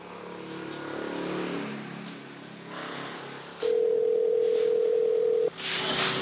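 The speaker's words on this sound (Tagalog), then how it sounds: "Tatawagan ko lang po saglit si Tita Rose" A phone call being placed: a steady tone rings out for about two seconds after a rumbling hum, then cuts off, followed by a brief bright burst of noise.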